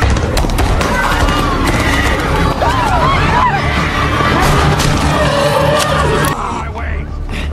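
In a film scene, a horse whinnies with rising and falling cries as its rider bursts into a crowded party, over dense crowd hubbub, clattering hooves and loud background noise.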